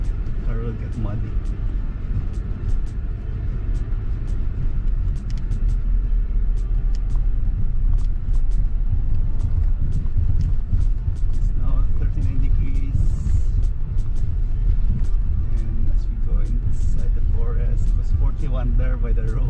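A car creeps slowly along a rough, muddy forest road in Sam Houston National Forest, a steady low rumble from engine and tires running throughout, with faint rattles and occasional bumps, and a voice talking over it.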